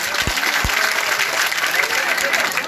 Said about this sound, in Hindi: एक बार दोनों हाथ उठा के जोरदार ताली बजाए